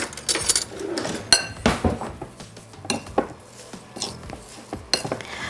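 A utensil stirs macaroon batter in a bowl, with close, irregular clinks and scrapes against the bowl's sides and no one talking.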